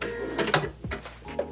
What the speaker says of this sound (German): die Funktion hier ist super praktisch, die schneidet nämlich den Faden einfach direkt ab